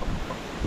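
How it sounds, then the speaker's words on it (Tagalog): Strong wind blows in heavy, buffeting gusts that rumble against the microphone, loud and steady for a brief moment with no speech. "Ang lakas ng hangin, no?"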